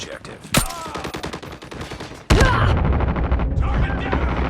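Rapid bursts of automatic gunfire crackle in a Call of Duty Mobile match, with sharp single shots and dense volleys layered over game voice callouts and in-game effects.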